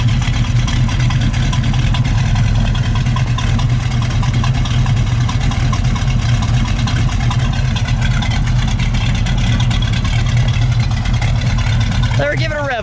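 A 1967 Chevrolet Camaro RS SS with a 350 V8 and four-speed idles close by. Its deep, steady, loud rumble holds throughout with a slight lope.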